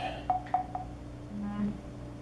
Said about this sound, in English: Of course, my phone goes off now.